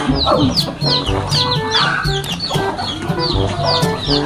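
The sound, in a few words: rooster clucking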